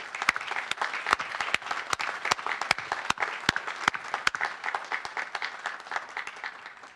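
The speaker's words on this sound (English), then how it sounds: "Let's give a round of applause to all our international fellows." A large audience applauds at a U.S. Army War College resident graduation ceremony. Dense, sustained clapping fills the whole stretch at a steady level, close and bright, with no voices above it.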